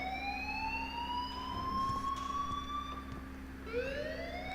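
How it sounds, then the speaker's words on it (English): A school alarm in the Life Is Strange video game wails in a rising and falling siren-like tone, holding steadily before climbing again near the end, alone and at moderate loudness. "please turn off that alarm since that's your job"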